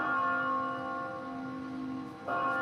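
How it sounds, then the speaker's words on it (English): Church bells ringing at six o'clock outdoors, a sustained tolling with rich, steady harmonic tones that hold and then swell again with a fresh strike near the end, clear and fairly loud with no talking. "There's the bells at 6 o'clock."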